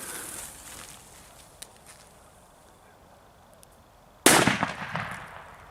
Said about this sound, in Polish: I definitywnie to była w Trójka, bardzo fajna petarda.